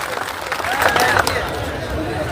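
Crowd applause greeting a guest arriving at a rally in Karnataka, a steady mass of clapping across the whole stretch, fairly loud and continuous.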